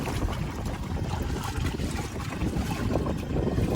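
A solar-powered electric inflatable boat with a Torqeedo Cruise 4.0 outboard moves across open water while towing a gas-powered boat, a steady wash of water and wind noise with no clear voices.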